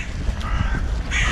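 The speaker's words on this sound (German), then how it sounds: "Da war eine Krähe." A crow caws outdoors, harsh calls standing out clearly over a steady background of ambient noise for a moment, with no one speaking.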